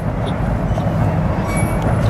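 A train passes through a small Minnesota town, giving a dense, steady rumble with broad rushing noise, close and fairly loud and unbroken throughout, with no talking.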